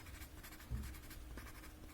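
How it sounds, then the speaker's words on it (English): A white charcoal pencil scratches across paper in close, steady strokes, a soft dry rasp with one firmer stroke near the middle, alone without voices. "we'll use our white charcoal pencil"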